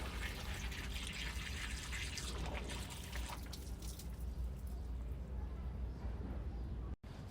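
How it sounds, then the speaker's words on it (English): Distilled water poured through a small funnel into the cooling system of a BMW E36 during a coolant flush, a steady low gushing and trickling that runs continuously at close range and cuts off abruptly near the end. "We're going to throw distilled water and fill it up until it's full."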